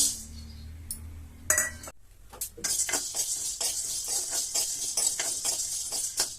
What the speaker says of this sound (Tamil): மிளகு பொரிய ஆரம்பிச்சிருச்சு இப்போ இறக்கலாம்